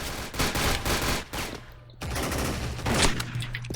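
FAMAS rifle fire in the video game Special Force rattles in rapid bursts and fusillades, loud and close, with brief pauses between strings of shots and no speech.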